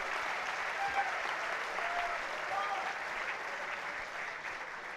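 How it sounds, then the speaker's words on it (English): Graduating students applaud at a university convocation ceremony, a dense, even wash of clapping from a large hall crowd that holds steady throughout. "you owe yourself a round of applause"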